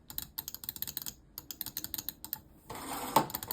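Close, quiet clicks from the buttons of a Logitech M720 Triathlon mouse, plastic buttons pressed in a fast irregular run of many crisp taps, then a brief rustle at the end.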